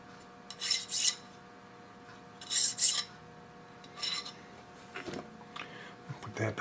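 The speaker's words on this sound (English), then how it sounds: "Now I can turn around and go back to my 0 up on the readout and deburr this a little bit." A file rasps across a freshly machined metal part on a lathe or mill while deburring it, in several short bursts separated by pauses, close and fairly quiet, with faint background hum.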